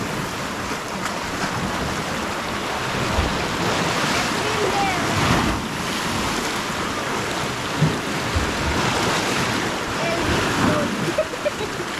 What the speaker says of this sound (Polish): Widać, te fale idą w tą, w tamtą.